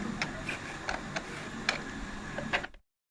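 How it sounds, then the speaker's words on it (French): Screws being tightened one after another on a plastic pool LED floodlight mount, giving a run of small, close clicking and ticking mechanical sounds over a soft background before it goes silent. "Je serre progressivement les 6 vis pour que le projecteur reste bien en place pendant cette opération."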